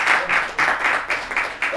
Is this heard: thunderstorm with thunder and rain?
no